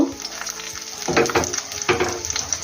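Steady sizzling of stuffed white pumpkin frying in a pan on low gas, close up, with occasional scraping or stirring noises.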